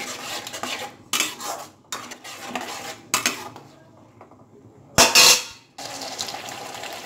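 A spoon mixes fried onion paste in a pan, making sharp metallic clatters and scrapes in irregular bursts separated by quiet gaps, with one loud clang near the end.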